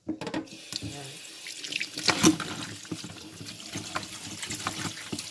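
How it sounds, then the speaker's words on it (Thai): A tap runs into a sink while chicken feet soaked with salt are rinsed in a kitchen, giving a steady close splashing flow with small clattering knocks and drips throughout. "จะเปิดน้ำล่าง"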